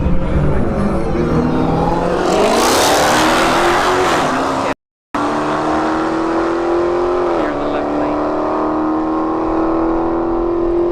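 A Dodge Challenger Hellcat blasts down a drag strip with a loud supercharged engine roar that climbs through gear shifts, briefly cut by a gap, then a steady high-pitched drone as it runs away.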